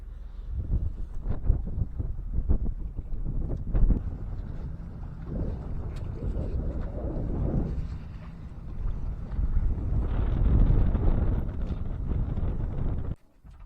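Under reefed sail, a sailboat tacks in a harbour with strong wind buffeting the microphone, water sloshing against the hull and thumps and rattles of rigging and gear as it comes about.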